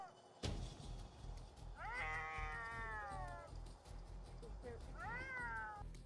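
Feral cat confronting a Greenwood police officer, producing two drawn-out yowling meows, loud and near, after a sharp thump and over a muffled background rumble.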